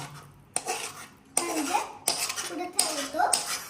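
A spatula scrapes a freshly cooked homemade sweet out of a pan onto a plate: a few sharp, close metallic scrapes and clinks with short pauses, and no talking.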